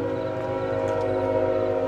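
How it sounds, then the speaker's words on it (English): A train in Farming Simulator 22 passes loudly and steadily, with a sustained tonal horn-like drone holding throughout at close range. "And that is a loud train if you guys don't hear that."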